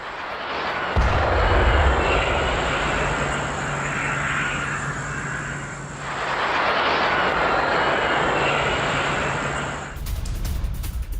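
A drone attack on a US base in Iraq is heard as a loud droning aircraft-like engine roar that swells, dips and swells again, with an abrupt noisy burst near the end; no voices.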